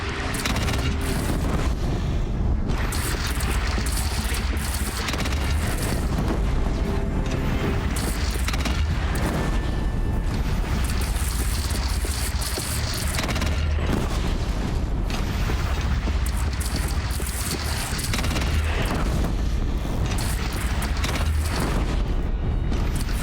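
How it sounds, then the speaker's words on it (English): Cannon fire and combat in the Horizon video game with Aloy, a sustained loud barrage of booms, blasts and mechanical clatter filling the whole stretch, dense and continuous without clear pauses. "They only have one cannon!"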